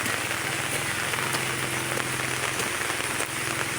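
Steady rain pours down in a rural village community, a dense continuous hiss of drops striking surfaces with no voices, holding even and loud throughout.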